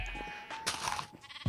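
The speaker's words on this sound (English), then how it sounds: "You can pet the sheep in Minecraft." Sheep bleating in Minecraft, a short game-animal baa repeated a few times at close range, moderately loud against a quiet background with no talking.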